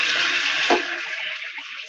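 A kitchen tap runs water over hands being washed, a steady close splashing stream with a brief thud partway through; no talking.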